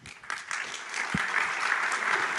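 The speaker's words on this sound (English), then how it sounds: "They're pre-clapping for your question" An audience at a tech conference session breaks into applause, dense clapping that swells and holds steady, close and filling the room with no talk over it.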